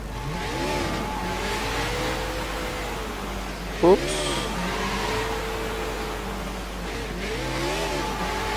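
A motorcycle engine revs and drones steadily in the video game Sleeping Dogs, its pitch rising and falling in waves, with a brief sharp burst midway and talk over it.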